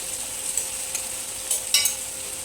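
Tomatoes with salt cook in a pan for a potato curry, giving a soft, steady sizzle with a few brief stirring scrapes close by and no talking.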